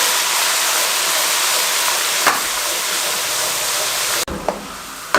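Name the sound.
frying onions, whole spices, garlic ginger paste on medium flame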